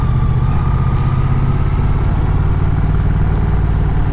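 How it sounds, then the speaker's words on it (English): A big Fendt tractor engine runs nearby with a steady low, throbbing idle, loud and constant throughout, with no talk over it. "you got a big Fendt tractor here that might hit you in the face"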